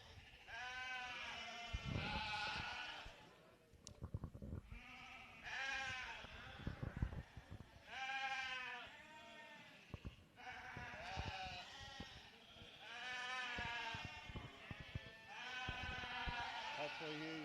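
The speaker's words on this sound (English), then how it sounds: "Lot 14, this is late spring yearling ewes." Dorper yearling ewes bleat repeatedly in a livestock sale ring, with overlapping calls from several sheep coming in waves alongside scattered thumps and clatter.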